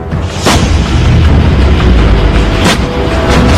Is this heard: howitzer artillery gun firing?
yes